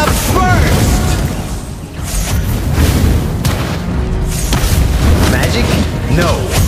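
Valir's Lava Burst fire skill in Mobile Legends: Bang Bang erupts in repeated booming bursts over a dense, continuous game soundtrack of effects, with a character voice line nearby.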